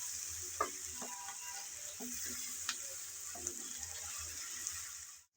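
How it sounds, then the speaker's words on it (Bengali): Ginger, garlic and onion stir-fried in a pan give off a steady, close sizzle, with soft clinks and scrapes from stirring scattered throughout and no voices. "এখন আদা আর রসুন পেঁয়াজের সাথে নেড়েচেড়ে ভেজে নিতে হবে, যেন কাঁচা গন্ধটা চলে যায়"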